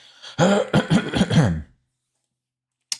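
A short burst of harsh throat-clearing coughs up close, several choppy bursts in quick succession, followed by silence and a brief click at the end.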